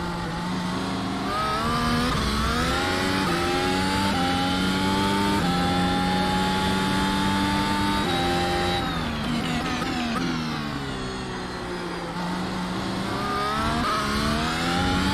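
Mercedes F1 W13 race car engine in the iRacing sim, a loud sustained high-pitched whine that climbs through the gears, drops on a downshift and builds again, heard alone with no talk.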